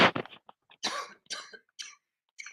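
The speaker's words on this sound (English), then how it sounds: "I don't know why I'm coughing" A person coughs several times in close, short bursts, a harsh cluster at first and then spaced single coughs, with no talking in between.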